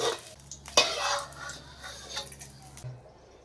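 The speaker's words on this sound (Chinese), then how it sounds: "下点花椒，炸出香味儿。" Sichuan peppercorns sizzling in hot oil for mao xue wang, a brief close sizzle with stirring scrapes and a sharp knock near the start.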